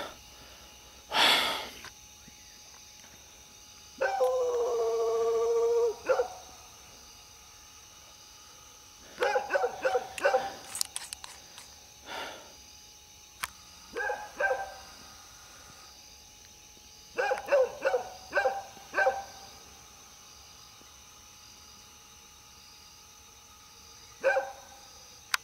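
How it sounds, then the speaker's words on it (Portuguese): Dogs barking in scattered bursts, some sharp single barks and some rapid clusters of several yaps, with quiet gaps between them, heard over a faint steady background tone and no talking. "os cachorros latem muito aí"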